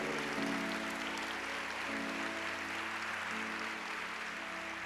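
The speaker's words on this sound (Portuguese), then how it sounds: "Aplauda forte ao Senhor," A church congregation claps loudly and continuously, a dense wash of applause filling the room with no voices rising above it.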